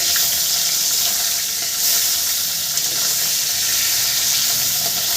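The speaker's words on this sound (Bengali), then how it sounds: "আমি উল্টে দিয়ে এক পিঠ আমি ভেজে নেব" Katla fish belly pieces fry in hot oil with a steady, close, continuous sizzling hiss that holds evenly throughout, with no talking.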